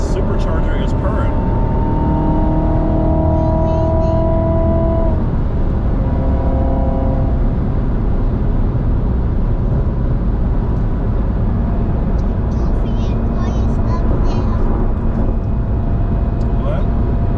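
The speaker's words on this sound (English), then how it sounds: "That supercharger is purring." A supercharged Corvette Z06 engine runs with a steady low rumble and drone under road noise from inside the cabin, while an adult and someone talk over it.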